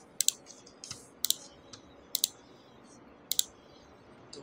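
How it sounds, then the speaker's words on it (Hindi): A computer mouse clicks sharply in four quick double-clicks spaced about a second apart, close and distinct over faint background hiss. "आप सबसे पहले इस पर क्लिक करेंगे।"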